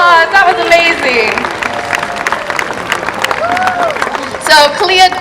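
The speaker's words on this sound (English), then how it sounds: "Everyone give her a big round of applause." Applause and cheering from the SeaWorld San Diego audience at an orca show, a sustained wash of clapping with occasional shouts and whistles, while a presenter's amplified voice talks over it.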